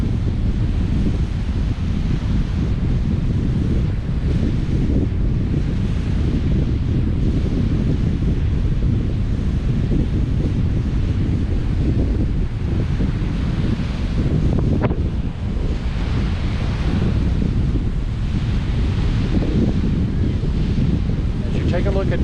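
Wind and choppy waves on Lake Huron along Michigan's Thumb, a steady loud rush of wind buffeting the microphone over washing surf, with occasional talk.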